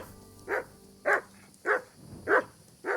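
A dog in the video game Kingdom Come: Deliverance gives five sharp, evenly spaced barks at a moderate distance, with no talking.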